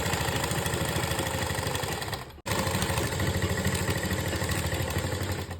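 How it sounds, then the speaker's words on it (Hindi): A sewing machine stitches elastic onto fabric with a steady, close, motor-like hum and fast needle clatter, broken once by a momentary stop before it resumes. "फिर हम इस पर इलास्टिक की सिलाई लगाएंगे आधे आधे इंच की दूरी पे पूरे फैब्रिक में,"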